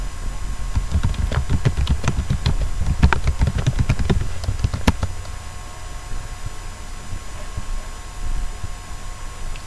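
Rapid computer keyboard typing in a quiet room, a dense burst of close, sharp key clicks for about four seconds, then scattered fainter taps.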